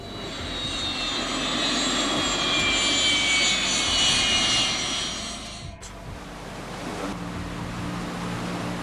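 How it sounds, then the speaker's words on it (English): A Gulfstream business jet sweeps low over the yacht Lady Ghislaine, giving a loud, rising engine roar with a high whine that cuts off abruptly, followed by quieter wind and water noise. "the Gulfstream pilot asked for permission to fly low over the Lady Ghislaine"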